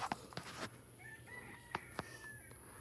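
Wild chickens on a golf course give a rooster crow, faint and at a distance, alongside soft clucks and a few sharp clicks, with no talking.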